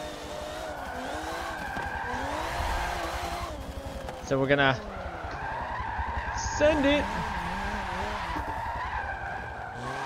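In a racing video game, tires squeal in two short, sharp bursts during drifts over a constant engine drone, while someone talks the whole time.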